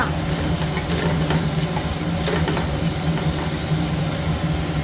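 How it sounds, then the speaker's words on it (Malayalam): Onions with salt sizzle loudly in a hot pan for a Malayalam-style chicken dish, a steady close frying hiss throughout with faint scraping from stirring and no voices. "സവാള വേഗം വെന്ത് കിട്ടാൻ വേണ്ടി കുറച്ച് ഉപ്പ് ചേർക്കുക ഇളക്കുക"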